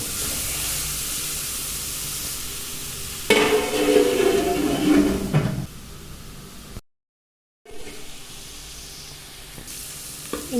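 Beans and carrots stirred into sautéed onion in a pan for bansi rava upma: a steady sizzle of frying runs throughout, swelling louder with scraping stirs in the middle, cut by a brief total silence before the frying resumes.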